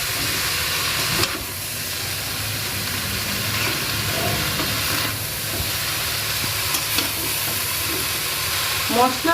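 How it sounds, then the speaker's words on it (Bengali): Shredded cabbage mixed with spices and a pinch of sugar is worked around a hot frying pan, giving a steady close sizzle and hiss with a few soft scraping stirs and no talking. "পুরো মশলাটা আমি বাঁধাকপিটাকে মাখিয়ে নেবো"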